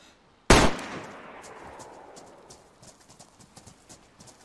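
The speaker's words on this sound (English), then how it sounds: "I shot the wrong guy!" A single loud gunshot in a video game, sharp and close, ringing out in a long echoing tail, followed by faint rhythmic hoofbeats.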